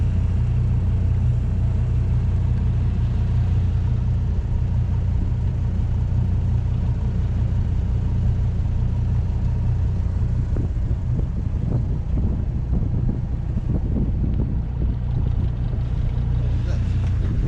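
A sailing boat motors under engine power alone at about eight knots in the waters around Orkney, its low engine rumble continuous and steady throughout, with wind and water noise layered over it and faint talk aboard.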